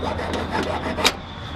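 A metal file is dragged across copper scrap in a few short, quick rasping strokes. The scrapes are close and fairly loud, with a brighter screech near the end, and nobody speaks.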